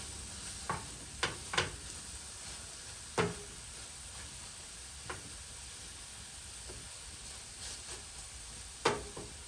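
Food simmers in a pan with a soft continuous sizzle, broken by occasional light clicks and knocks of utensils, close and fairly quiet, with no talk.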